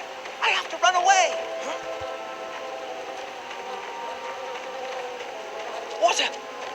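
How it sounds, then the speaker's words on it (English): A swarm of bees in The Adventures of Tintin video game buzzes as a steady, droning hum, with brief bursts of louder activity and a person's voice speaking over it. "Bees! I have to run away!"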